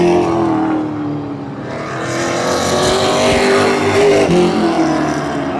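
Pro Stock race cars roar around Oyster Bed Speedway on a final lap, a loud continuous wall of engine noise with droning, shifting pitch and no voices.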